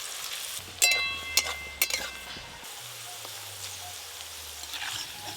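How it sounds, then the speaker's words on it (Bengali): Sliced onions fry in hot oil for biryani with a soft, steady sizzle, broken by a few sharp clinks of a utensil against the pan early on, with no speech. "বিরিয়ানির জন্য বেরেস্তা ভেজে নেব। এই বেরেস্তাটা ভাজতে একটু সময় লাগবে।"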